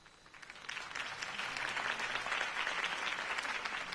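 A crowd applauding, clapping swelling from sparse to a steady, dense patter that continues at an even level.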